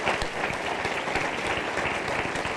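A church congregation applauding during a Christmas-season sermon, a dense, continuous crowd clapping heard throughout at moderate level with no pauses.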